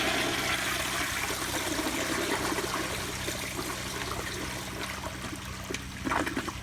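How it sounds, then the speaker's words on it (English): An American Standard Afwall toilet flushes with its tank not completely full, a steady loud rush and gurgle of water running throughout with no let-up, ending in a few louder splashy bursts. "I'll do another flush right now"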